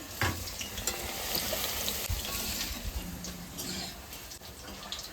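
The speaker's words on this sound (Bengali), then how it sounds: "আমি তো এদিকে আলু ভাজা বসাই দিচ্ছি" Potatoes frying in a pan for a village-style goat curry meal give a steady, fairly faint sizzle, with occasional soft clinks and a watery wash running beneath it throughout.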